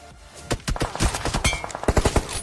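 Rapid automatic gunfire rings out in a battle royale video game, several quick bursts of close, loud shots in uneven rhythm with no talk over them.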